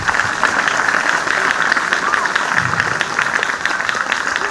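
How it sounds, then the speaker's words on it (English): Steady applause from a school audience for the teams of an inter-house drama competition, a continuous even patter of clapping at moderate volume with faint voices underneath. "A huge round of applause for all the teams."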